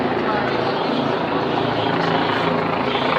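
A helicopter flies overhead during a stabbing incident at London Bridge, its steady rotor thrum and engine roar filling the air continuously and loudly throughout.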